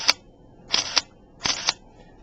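A Nikon SLR camera fired with an added vertical shutter release, three crisp mechanical shutter clicks close up, the later two each a quick double snap of the mirror and shutter, in a quiet room.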